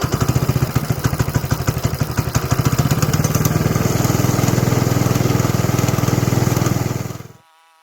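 A Moto Monster go-kart's small engine runs close and loud with a fast, steady putter for about seven seconds, then cuts off abruptly into silence.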